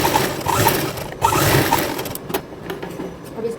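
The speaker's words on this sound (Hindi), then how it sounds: "ऐसे सिलाई लगा देंगे" A sewing machine runs in quick bursts while stitching the neckline of a patchwork kurti, a close mechanical whirr that speeds up and eases off, with brief pauses between runs.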